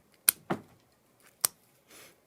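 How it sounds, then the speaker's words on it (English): Pruning cutters snip a branch on a 35-year-old literati black pine bonsai, making a few sharp, close clicks and crunches spaced over a couple of seconds, with a softer rustle at the end. "I will ruthlessly cut this branch off"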